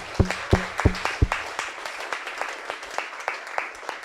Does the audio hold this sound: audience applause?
yes